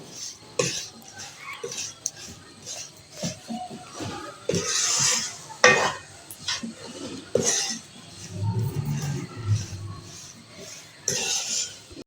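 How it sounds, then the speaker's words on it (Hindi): Moong dal halwa is stirred and roasted in a pan, with intermittent metallic clinks and scrapes of a spoon against the pan, a soft sizzle in places and an occasional cough nearby. "तो मैंने इसको 3 मिनट और भून लिया।"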